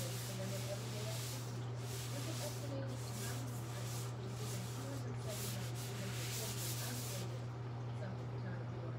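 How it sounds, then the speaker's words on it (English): A cart is wiped down with a sanitizing wipe at a lash application station, producing a soft, continuous rubbing swish close by over a steady low electrical hum. "Wiping down our cart."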